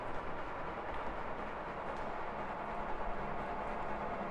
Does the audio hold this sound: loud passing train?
yes